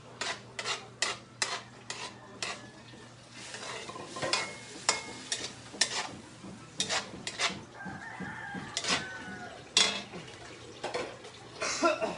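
Garlic and onion sautéing in a pan for macaroni pasta, a quiet sizzle broken by repeated scraping and stirring strokes, with chickens clucking and a rooster crowing in the background.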